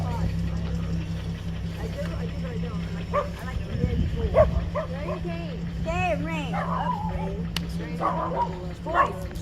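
A dog gives a few yips and whimpering, whiny calls at moderate distance, over a low steady hum, with people talking at the same time.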